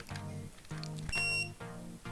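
An FX25 digital electronic load tester, powered through micro USB from a power bank, gives one short, high electronic beep as it switches on, heard over steady pulsing tonal sounds.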